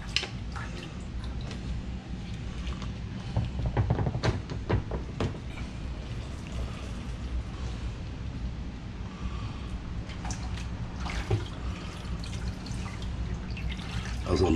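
Cold water running from a tap over freshly cooked pasta in a kitchen, a continuous splashing patter with scattered drips and clinks, steady and close.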